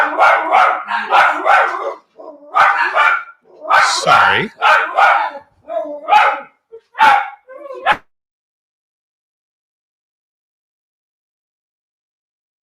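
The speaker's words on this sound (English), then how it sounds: "There must be a puppy." A puppy barks in a rapid series of sharp yips and barks, close and loud, with short pauses between bursts, then silence for the last few seconds.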